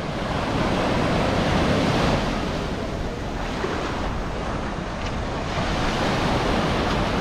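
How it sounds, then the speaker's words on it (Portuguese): Rising tide washing in at Boa Viagem beach in Recife, Pernambuco: a continuous broad roar of surf with soft wind, steady and enveloping, no voices. "A maré tá enchendo, ó. Essa zoadinha aqui, né?"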